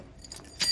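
A short, close jingle of a bunch of keys in Wolfenstein: The New Order, faint at first and then a brighter burst of metallic clinks near the end.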